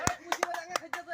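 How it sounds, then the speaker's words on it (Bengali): Several quick hand claps ring out in an uneven burst, close and sharp, with voices murmuring around them at a village gathering. "হাততালি দাও না গা।"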